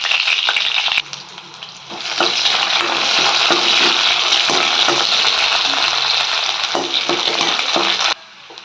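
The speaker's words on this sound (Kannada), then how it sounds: "ಫ್ರೈ ಮಾಡ್ಕೊಳ್ಳೋಣ." Garlic, onion and curry leaves frying in a pan after mustard seeds for bele saaru, a loud, close, dense sizzle that swells after a brief quieter moment and holds steady, with a few faint scrapes.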